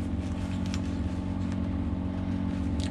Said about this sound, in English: That's a big compressor going.